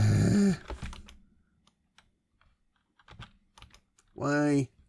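Typing on a Commodore 64 keyboard: a short burst of key clacks near the start, a few scattered light taps through the middle, and another loud burst near the end, with a voice heard briefly.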